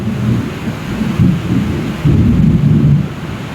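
Deep, loud thunder rolls close overhead in a powerful, heavy rainstorm, a sustained low rumble that swells in waves, with faint rain beneath and no talking.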